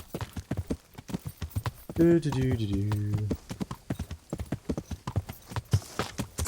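Horse hooves clip-clop steadily at a brisk pace in the video game Kingdom Come: Deliverance, broken midway by a horse's drawn-out whinny, with a voice talking over the hoofbeats.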